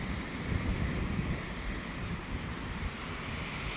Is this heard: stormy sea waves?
yes